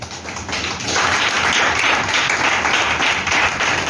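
A church congregation applauds during a French-language service, steady dense clapping that swells after a quieter first second and holds loud and close to the end.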